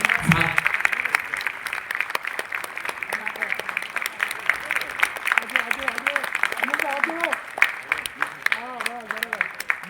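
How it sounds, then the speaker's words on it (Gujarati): Applause from an audience at a community gathering, a dense patter of many clapping hands that continues throughout while people talk over it. "બેકગ્રાઉન્ડમાં તાળીઓ તો વગાડો."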